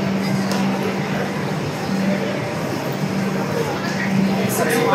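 Passenger train rolling along just after departing Miraj, heard from inside the coach as a steady, loud rumble with a low hum that runs through the whole stretch.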